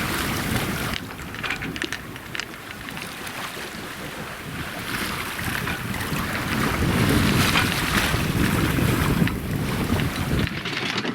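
Waves and strong wind on a 13-metre steel sailboat at sea, a loud continuous rush of wind buffeting the microphone over the surging wash of water against the hull, building toward the end.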